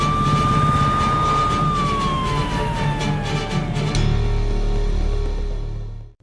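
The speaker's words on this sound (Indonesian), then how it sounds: "Dengan menggunakan ambulans, Sikandar pun membawa Kamini ke rumah sakit" Ambulance siren wailing loudly and close, its tone sliding slowly downward over several seconds before cutting off abruptly, leaving a low rumble that fades out.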